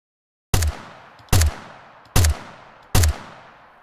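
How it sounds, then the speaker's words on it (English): Layered weapon gunfire built in the Krotos Weaponiser sound design plugin: four evenly spaced, loud single shots with sharp attacks, booming low punch and short decaying tails, no voices. "So now that I've got a decent weapon sound,"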